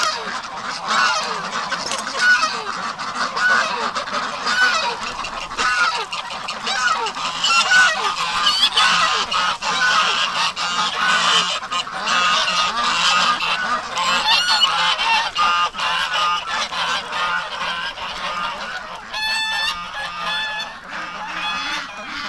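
Farmyard ducks honk and quack over a wet winter morning, with a dense, continuous chorus of loud calls from several birds close by and no talking.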